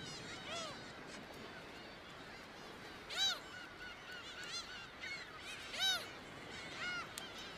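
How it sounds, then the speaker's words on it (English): Hundreds of summer birds call at a crowded nesting site in the DMZ, with loud honking, goose-like cries rising in bursts over a steady wash of distant flock noise. "There is fierce competition amongst the hundreds of summer birds for a nesting place."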